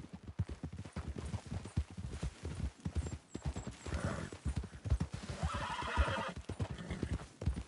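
Horse hooves clip-clop at a gallop in the video game Red Dead Redemption 2, a steady rapid rhythm close by with a brief whinny, heard under continuous background game sound.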